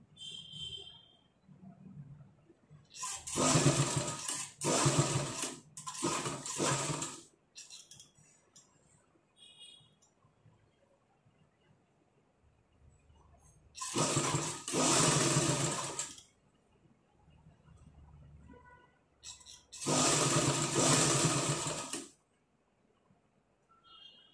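A sewing machine stitching a blouse runs in three separate bursts of rapid, close whirring, with quiet pauses between them.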